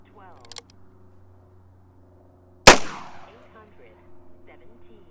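A single sharp gunshot from a Remington carbine chambered in .45 Colt cracks loudly and close, followed by a brief decaying echo, with quiet background before and after.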